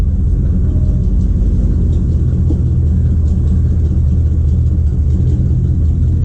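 A 1955 Ford Fairlane engine idles steadily close by, a loud, continuous low rumble that holds even with no break for the whole stretch and no voices over it.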